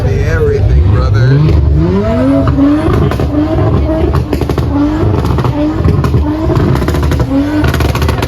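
Car engine revving at a large outdoor car meet in Jamaica, sustained loud rising and falling revs over crowd noise, with tire squeal and other vehicles nearby.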